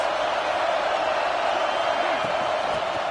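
A stadium crowd in a video game football match keeps up a constant, dense roar that does not let up, with commentary spoken over it.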